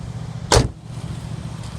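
A red Holden Commodore SSV Redline VF2 V8 automatic unlocks via passive entry with a single sharp, close mechanical clunk, then quiet ambient background follows.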